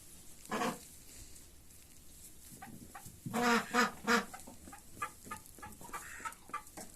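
Ducks or other fowl near trees outdoors give a string of quacks and clucks, a few louder bursts in the middle and scattered softer calls around them, at moderate distance.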